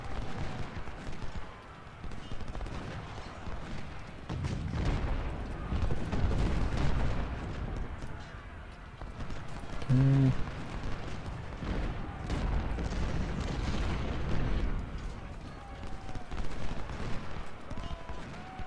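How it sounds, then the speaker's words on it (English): Musket volleys roll across a battlefield in Ultimate General: Civil War, a dense, continuous crackle and rumble of massed gunfire with swelling bursts and a brief tonal swell midway. "these volleys are raking through us like a sieve"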